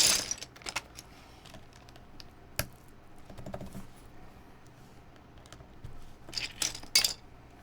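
Someone types on a QK100 mechanical keyboard. Crisp clacky keystrokes come in irregular runs, sparse in the middle and busier toward the end, with no speech.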